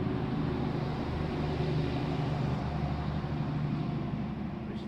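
Road traffic running near a campsite by the Elora Gorge, a steady mid-distance rumble of passing vehicles that holds at an even level throughout, with no voices.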